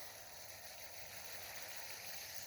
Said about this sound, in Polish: Pierwsze podlewanie w tym roku.